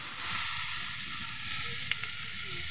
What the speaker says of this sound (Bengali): দেখো আমি আর একটু ভাজা ভাজা করে নিলাম।